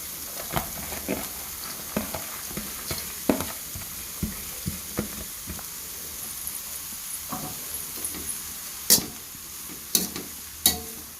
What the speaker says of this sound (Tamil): கறியிலேருந்து தான் சேர்கிற மாதிரி நல்லா கிண்டி விட்டுக்கோங்க